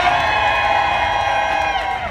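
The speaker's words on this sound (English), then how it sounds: "Y'all better clap like this is your own kid." A street crowd at a New Orleans performance claps and cheers loudly and steadily, with whoops over the applause before it eases off.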